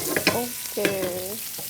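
Garlic paste goes into a pan of golden brown fried onions, giving a short burst of sizzling with a couple of scraping stir strokes and a squeaky, tonal edge, close by.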